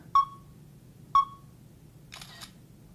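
Two short, sharp shutter clicks about a second apart from an iPhone camera on a timer, photographing jewelry, followed by a brief burst of rapid clicking near the end; close and clear over quiet room tone.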